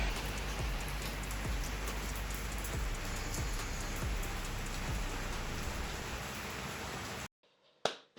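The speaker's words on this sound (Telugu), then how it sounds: "ఇంటికి వచ్చేసరికి వర్షం స్టార్ట్ అయింది" Steady rain patters down on surfaces, a dense even hiss with scattered drops, continuing for several seconds before cutting off abruptly.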